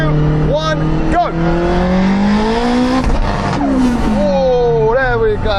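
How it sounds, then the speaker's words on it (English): A 1,000hp all-wheel-drive Honda and a Porsche 918 Spyder accelerate hard in a rolling half-mile race, engines rising in pitch through gear changes, loud and close, with voices talking over them. "Now let's do a more traditional rolling race over the half mile, okay?"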